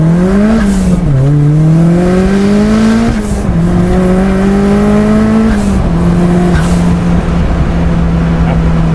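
A 350 BHP big-turbo Mazda MX5 Miata roars loudly and continuously, its engine pitch climbing through repeated gear pulls and dropping at each shift, with no talking over it.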